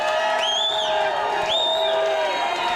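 Giants fans in a ballpark crowd on opening day against the Mariners give a sustained, loud roar with rising whistles and whoops, steady throughout with no clear talk over it.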